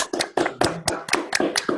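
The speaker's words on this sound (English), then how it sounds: "Let's unmute for a moment in order to exert our applause" Applause from participants who unmute at the end of an online mathematics lecture: a few hands clapping steadily and closely miked for under two seconds, with no talking.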